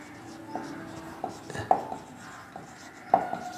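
Chalk or marker writing on a board during a physics lecture, soft scratchy strokes with faint taps at irregular intervals, quiet under a low room background with no talk.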